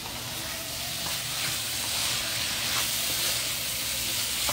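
Fajita meat and vegetables with fresh garden herbs sizzle steadily in a hot pan, a dense, even crackle and hiss that stays loud and close throughout.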